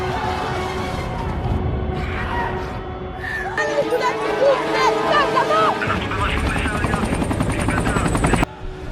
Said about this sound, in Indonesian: Helikopter militer yang dikerahkan tidak bisa menghentikan mereka